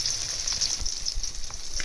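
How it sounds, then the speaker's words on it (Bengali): Pieces of rohu fish sputter and sizzle in a hot pan, a close, continuous frying crackle with small pops scattered throughout. "মাছগুলো ভাজা হতে থাকুক।"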